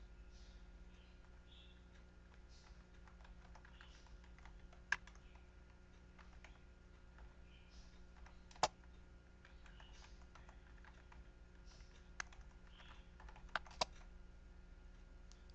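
Quiet tapping of a computer keyboard while a password is typed, with soft scattered keystrokes and a few sharper clicks over a faint electrical hum.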